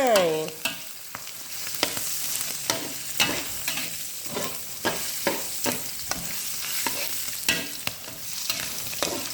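Beans and pork being stir-fried in a pan, with a steady oily sizzle broken by regular scraping and clacking strokes of a spatula, close and clear with no talk.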